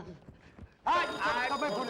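A telephone starts ringing loudly and continuously after a brief stretch of quiet background sounds.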